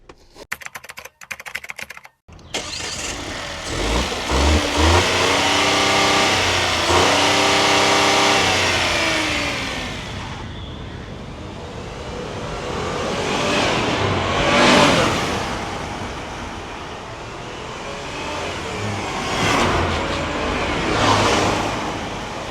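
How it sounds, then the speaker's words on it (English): A car engine starts after brief clicking, then revs and pulls away, rising and falling through several gear changes, steady and close inside the cabin, with no voices. "Well, let's start driving"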